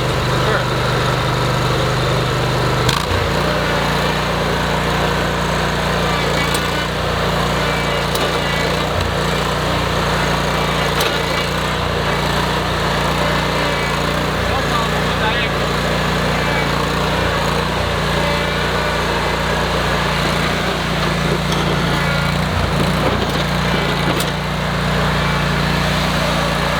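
Toro Grand Stand MultiForce stand-on mower engine running steadily and loud nearby for a long stretch, a constant droning hum with small bumps and clatters over it.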